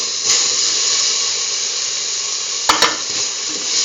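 Tomato pieces hitting a hot pan for a potato cucumber stew, giving a loud, continuous hissing sizzle that holds steady throughout, broken by a couple of brief sharp clinks near the end.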